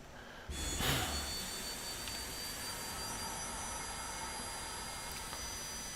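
A Citation Longitude business jet engine in Microsoft Flight Simulator 2024 roars in a steady, loud broadband whoosh with a high whine, starting abruptly after a brief quiet moment and holding constant.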